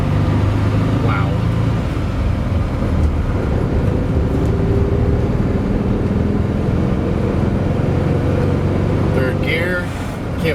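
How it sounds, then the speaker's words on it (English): A 1994 VW Type II bus is driven in third gear, giving off a steady, low engine and road drone heard from inside the cabin, with a faint voice now and then. "Third gear. Can't believe how quiet this thing is."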